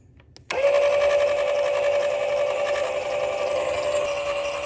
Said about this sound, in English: Now we can raise our jack.